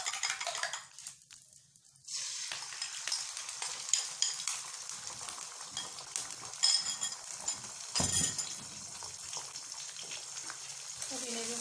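Eggs hit hot oil in the same pan used for Chinese fried rice. After a quiet opening, a steady sizzle rises and carries on, with occasional utensil clinks close at hand.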